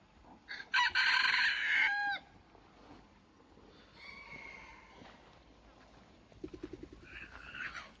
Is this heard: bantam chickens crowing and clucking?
yes